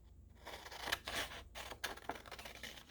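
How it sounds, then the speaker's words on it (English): Scissors cut out a piece of paper at a mixed media desk, making faint, quiet snips and rustles in short irregular bursts with brief pauses between cuts, and no talking. "I'm going to cut that out."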